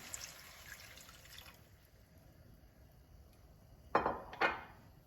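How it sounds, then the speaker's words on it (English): One cup of water is poured into a saucepan on a stove while cooking a Mexican-style green beans and ground beef skillet, giving two short splashing bursts near the end after a quiet, faintly hissing stretch. "I have 1 cup of water, and I'm going to add that to my saucepan."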